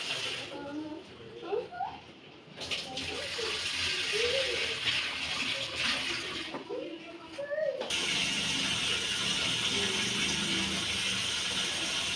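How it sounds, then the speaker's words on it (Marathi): Five kilos of peeled, sliced potatoes for chips are rinsed in water, giving a sloshing, running-water wash at close range that grows steady and continuous, while someone talks over it. "आता हे मस्त स्वच्छ धुवून घेते पाण्याने दोन तीन पाण्याने"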